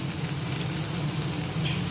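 Vegetables fry in a hot pan in a home kitchen, giving a steady, even sizzle and crackle at close range with no voices.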